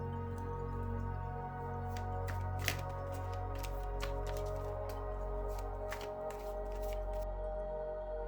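Tarot cards being shuffled by hand, a series of crisp riffling flicks and soft slaps at irregular intervals, close and quiet over a low steady background hum.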